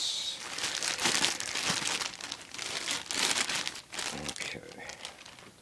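A plastic bag wrapped in paper being unwrapped, loud close crinkling and rustling in repeated bursts, with someone speaking over it.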